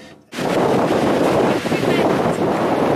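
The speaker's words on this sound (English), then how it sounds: "Whoa, it's proper windy." Strong wind at Mojave Point on the Grand Canyon rim buffets the microphone in a loud, rumbling roar that begins abruptly after a brief quiet moment and continues steadily.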